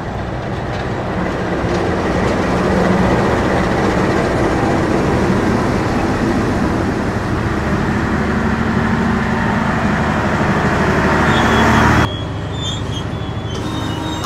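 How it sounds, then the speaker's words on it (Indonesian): The Ranggajati train, an executive and economy service from Cirebon to Jember, pulls into Pasuruan station with a loud, continuous roar of rolling wheels and rail noise. The sound cuts off abruptly near the end, leaving a quieter rumble. "Ranggajati udah masuk stasiun Pasuruan"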